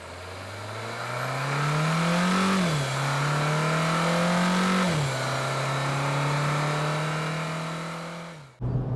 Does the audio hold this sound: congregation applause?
no